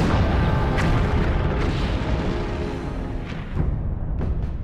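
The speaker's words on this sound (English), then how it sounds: "They get bomb hits and torpedo hits on the Musashi that weaken it and slow it down." Heavy rumbling blasts from bombs striking the Japanese battleship Musashi at Leyte Gulf, a continuous loud roar with sharper cracks near the end, no voices.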